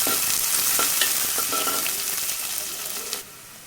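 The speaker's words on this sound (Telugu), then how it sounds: "ఉల్లిపాయ ముక్కల్ని దూరగా వేయించుకోవాలి." Chopped onion pieces fry in a pan with curry leaves for a mushroom masala, giving a steady close sizzle with scattered crackles and stirring scrapes that fades slightly toward the end.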